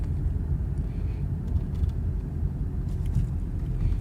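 Steady low rumble of a car driving, heard from inside the cabin, continuous and moderate in level, with a voice talking over it.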